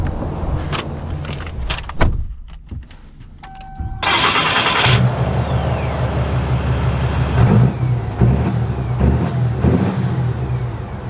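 A Ram 3500 Longhorn Mega Cab dually with the Cummins diesel clicks and clunks, then cranks and fires into a loud, rumbling idle that swells with revving as it pulls away, close and without talk.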